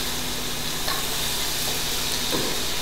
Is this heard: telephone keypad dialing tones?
no